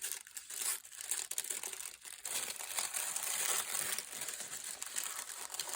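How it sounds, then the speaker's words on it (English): A paper napkin is torn and crinkled by hand for decoupage craft work, giving soft, close crumpling and ripping rustles that come in irregular bursts over several seconds, with no voices. "I can kind of tear it. Tear it away."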